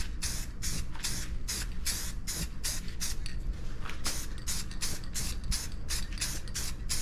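A spray can hisses in rapid repeated bursts as paint goes onto interior trim of a 1981 Dodge D150 truck, a close, steady pulsing spray with a faint mechanical rattle and no talk.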